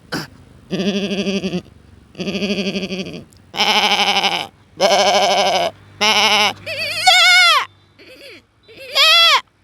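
A voice imitates a goat's bleating in a series of wavering, nasal bleats with short pauses between them, ending in a few higher, quavering cries.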